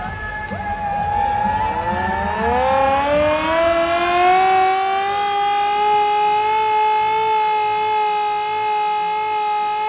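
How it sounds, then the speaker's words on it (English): Hand-cranked siren churned by a fan at a Vancouver Canucks hockey game, its wailing tone climbing in pitch and then holding steady and loud, with crowd noise beneath it. "churning the siren"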